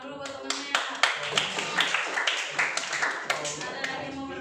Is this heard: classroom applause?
yes